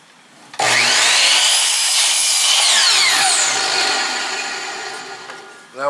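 A power saw cuts through a wooden board in one continuous, loud whining pass of about five seconds that starts abruptly and slowly fades as the cut ends.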